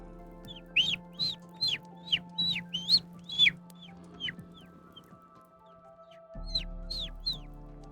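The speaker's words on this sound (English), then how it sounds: "Sounds like a baby chick." A baby chick chirps in a Minecraft Skyblock world, a run of short, high, evenly spaced peeps, fairly close and clear over quiet game ambience, pausing near the end before a few more chirps.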